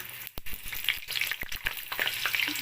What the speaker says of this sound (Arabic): معايا الزيت، هقلي منها في الزيت سليمه زي ما هي.